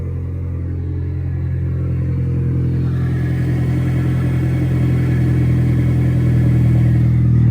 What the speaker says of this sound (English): I'm gonna see if you guys can hear the turbo spool up